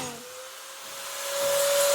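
A drill bores into wood on a Thai house project where wooden wall cladding is being fitted, a steady high whine that rises in pitch and grows louder toward the end, heard up close with no talk.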